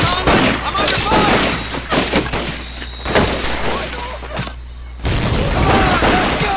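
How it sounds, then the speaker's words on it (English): Gunfire in a World War II shooter game on PC: dense bursts of rifle and machine-gun fire with booming impacts, loud and continuous, with shouted game voices mixed in. "I'm under fire."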